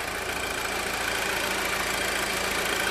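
A 2013 Volkswagen Golf R with a 2-liter turbocharged TSI inline four-cylinder idles at a steady, even drone, close and unbroken, with no voices.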